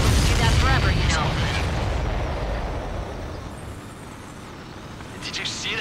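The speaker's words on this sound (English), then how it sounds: "Did you see that explosion? Looks like that's one of them down." Explosion in the Ace Combat 7 flight combat video game, a loud booming blast with a rumbling tail that slowly fades, with radio chatter layered over it.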